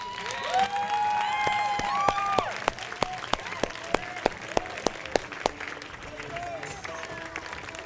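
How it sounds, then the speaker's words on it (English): An award-show audience at the WideScreen Festival stands and applauds the executive team, with dense clapping mixed with cheers and voices, and louder individual claps punctuating the crowd noise. "I want you guys to stand to your feet and applaud"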